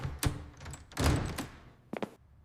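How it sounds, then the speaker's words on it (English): A back door closes with a few dull knocks and thumps, followed by a louder shut and two quick clicks like a lock turning, all quiet and a little muffled. "I lock the back door."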